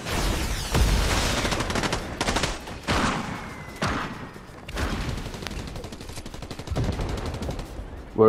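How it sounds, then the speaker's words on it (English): Rapid bursts of gunfire in the Fortnite battle royale video game, several volleys of automatic shooting in quick succession with brief gaps, fairly loud and close. "There's a lot of shooting by me."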